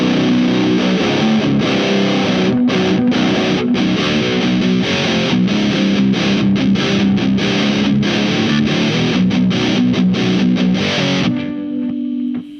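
Heavily distorted electric guitar through a Zoom Hyper Lead HL-01 pedal set around 12 o'clock, chugging a fast rhythmic riff with choppy palm-muted stops, loud and close, ending on a held note.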